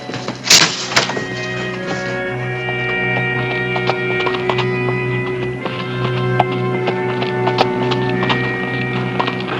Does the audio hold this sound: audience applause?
no